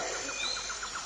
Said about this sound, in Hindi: एक पपीहे ने जोर से कहा, प्यू प्यू।